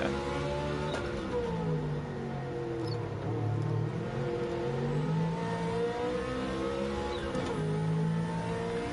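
Ferrari GTO engine in Gran Turismo 7, driven with a manual gearbox, revving and shifting through gears with rising and falling tones, steady and fairly loud throughout the whole stretch.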